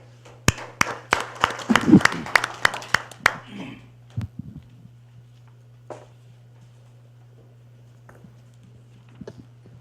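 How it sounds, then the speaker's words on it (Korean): Audience applause at a university presidents' summit welcomes the next speaker, a short burst of scattered claps that swells and dies within a few seconds, followed by a few isolated claps over a steady hum. "박수로 초청하겠습니다"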